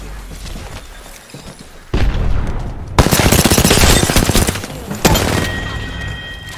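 Heavy automatic weapon fire in the battle royale shooter Apex Legends, loud rapid bursts with a sharp boom midway and dense rattling volleys that trail off.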